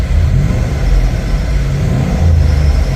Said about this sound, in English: Let's accelerate a little bit.